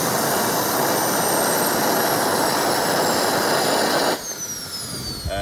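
A jet kart's engine roars steadily at close range, then cuts down abruptly near the end, leaving a quieter whine; the engine dies at idle from a fuel pressure fault.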